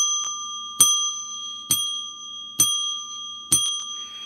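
A small bell rings four times in a steady, evenly spaced run during a livestream, each ding sharp and bright with a lingering ring under faint background noise.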